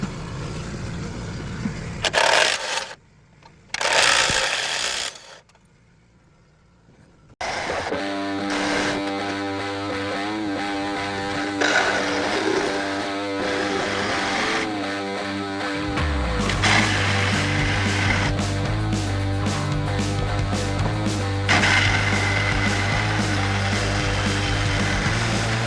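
A steel engine bracket is cut off a 1995 Ford F150 pickup with a power tool, producing a loud, harsh, continuous whining and grinding roar after a few stop-start bursts, its pitch dropping and steadying partway through.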